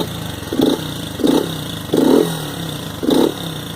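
A Honda Pop 100 motorcycle engine runs close by, idling steadily with four short revs at a regular rhythm, loud and alone.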